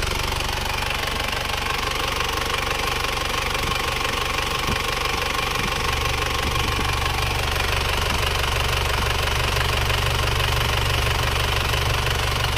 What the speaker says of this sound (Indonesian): Suara mesinnya sudah halus